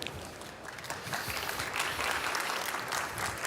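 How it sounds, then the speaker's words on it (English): A trade-fair audience at an industry stage applauds in a steady, moderately distant wash of clapping that swells slightly toward the end of the clip. "again a big applause"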